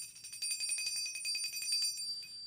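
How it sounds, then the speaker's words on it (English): A bell is struck repeatedly in quick succession, producing bright, high metallic ringing that shimmers and overlaps for a couple of seconds at moderate, fairly close level with no talking. "I'm about to hit the bell right quick."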